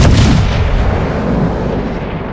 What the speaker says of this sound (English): Oh no, some of those shells are gonna hit me.